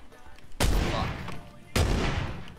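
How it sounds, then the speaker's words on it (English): Gunfire in PlayerUnknown's Battlegrounds, heard as two sharp, loud shots about a second apart, each with a booming tail that fades into the game's ambient background. "Hearing him shoot."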